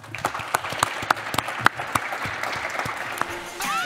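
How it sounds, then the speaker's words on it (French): Audience at a real estate and urban affairs event applauds in loose, distinct claps that thicken into a brief ovation before a voice cuts in at the end. "Applaudissements pour vous"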